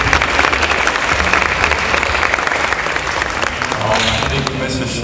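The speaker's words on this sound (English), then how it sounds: "give yourselves a round of applause" Loud, sustained applause fills a school sports awards night, a continuous roar of many clapping hands with some crowd voices mixed in.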